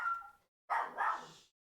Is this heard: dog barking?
yes